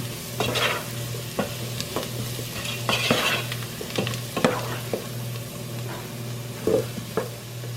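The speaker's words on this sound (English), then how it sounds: "Stir well and cook for about a minute." Chowder ingredients are stirred in a pot over heat, giving a steady sizzle with repeated scraping strokes of a spoon against the pot at an uneven rhythm, close and fairly loud with no talk.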